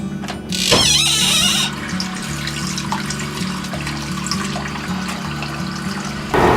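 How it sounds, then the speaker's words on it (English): A tap is turned on and water gushes into a sink, a loud burst at first, then a steady running flow beneath a persistent low hum. "Turn on the water."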